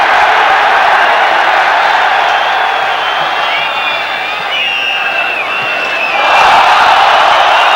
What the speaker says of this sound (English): Crowd calling for everything now